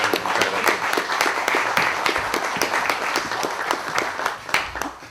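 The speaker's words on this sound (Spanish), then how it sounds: "Lo recibimos con un aplauso." A lecture audience applauds steadily, many hands clapping in a dense, sustained burst that tapers slightly toward the end.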